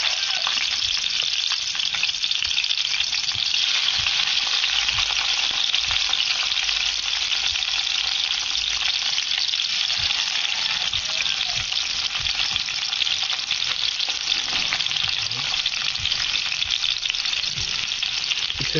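Tomatoes hit a pan of sautéing chopped onions, raising a loud, continuous sizzle and crackle of frying that runs steadily for the whole stretch, with occasional soft stirring and no talking.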